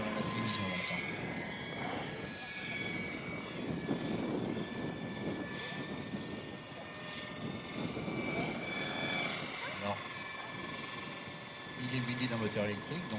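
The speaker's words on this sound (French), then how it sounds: "c'est la maquette d'un hélicoptère américain, mais qu'on voit assez souvent" A radio-controlled scale model of an American single-rotor helicopter flies at an aeromodelling meet, its steady engine and rotor drone running continuously at moderate distance with faint talk underneath.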